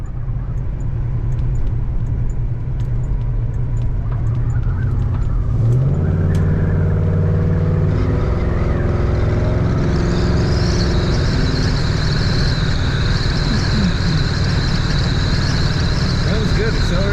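A 1971 Pontiac Grand Prix SJ with a 455 engine runs steadily and loud throughout, its low rumble shifting in pitch partway through as it picks up, with a higher whine joining later.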